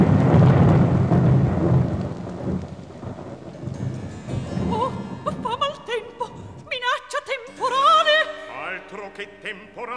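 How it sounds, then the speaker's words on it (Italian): A thunderstorm sound effect in a staging of the opera La Cenerentola brings a loud rumble of thunder with rain, which fades as operatic singing and orchestra take over. "Che temporale"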